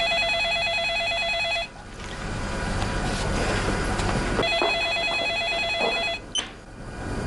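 Telephone ringing with an electronic warbling bell in repeated bursts, separated by short pauses, loud and close.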